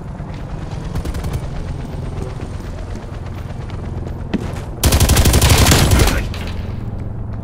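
A Stoner 63 light machine gun fires on the Nuketown map of a video game on PS5, with steady game noise and then a loud, sustained automatic burst lasting about a second.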